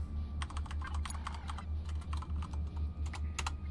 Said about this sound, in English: We type this thing out.